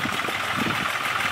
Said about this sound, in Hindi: पहली बार खेत में ट्रैक्टर चलाने का एक्सपीरियंस ही कुछ अलग रहा आज।